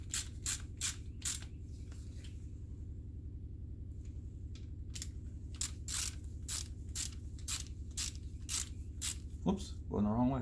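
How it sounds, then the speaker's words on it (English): Ratchet with an 11mm socket snugging an engine bolt during final assembly of a 5.3L LC9 engine rebuild: bursts of sharp clicking in two runs separated by a pause, over a low steady hum, with a voice briefly at the end. "Grab my 11mm socket, go ahead and snug it down"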